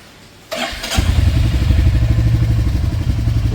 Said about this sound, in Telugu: so start the engine now